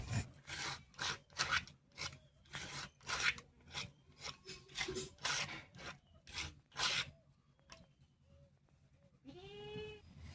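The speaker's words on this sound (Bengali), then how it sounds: "ভুট্টাগুলো হালকা করে বেটে নিলাম" Corn kernels being ground lightly on a grinding stone, giving repeated rough rasping strokes in a steady back-and-forth rhythm, close and fairly loud, pausing near the end.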